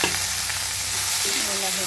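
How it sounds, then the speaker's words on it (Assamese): Tomatoes added to hot oil with ginger and garlic in a home kitchen curry, giving a loud continuous sizzle and crackle of frying with stirring, close up and without talk. "হৈ গৈছে আদা নহৰুখিনি, এতিয়া বিলাহীখিনি দিছোঁ"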